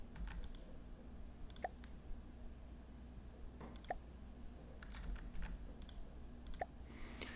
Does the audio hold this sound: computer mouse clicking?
yes